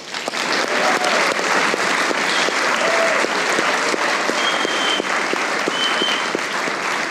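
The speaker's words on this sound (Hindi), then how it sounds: "एक बार आतिफ असलम के लिए तालियां हो जाएं।" A studio audience on a comedy talk show claps steadily and loudly for about seven seconds, a dense, even wash of applause with no speech over it.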